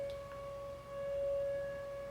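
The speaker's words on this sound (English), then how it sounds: "first Wednesday of every month they do this storm siren at 1 p.m." The Twin Cities monthly outdoor storm warning siren holds one steady, sustained wail in a sample that begins and ends mid-tone, moderately loud and distant-sounding over a low background rumble, with no voices.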